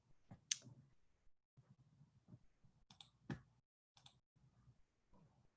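A computer mouse clicks several times in a quiet room, sharp isolated clicks with uneven gaps between them, some in quick pairs.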